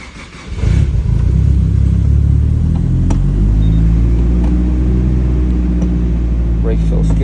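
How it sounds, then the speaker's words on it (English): A Nissan S15 Silvia's engine cold-starts with a short crank, then catches and settles into a loud, steady, rumbling idle close by, running alone without talk. "All right, let's do a cold start."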